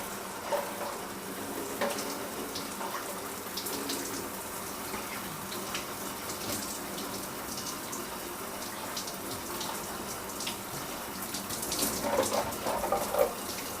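Hot water runs in a shower in a steady, even hiss, close and continuous, with a few louder splashes near the end and no talking.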